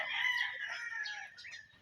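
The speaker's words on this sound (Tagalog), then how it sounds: "Meron tayo ditong bull stag, cock, stag." A gamefowl rooster, one of a yard of fighting cocks and stags, crows loudly and close in one long, wavering call with no other sound.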